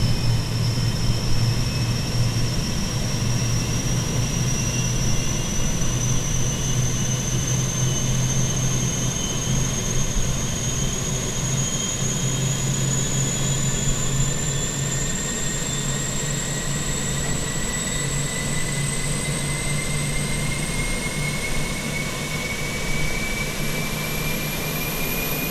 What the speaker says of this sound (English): we can hear that APU start sounds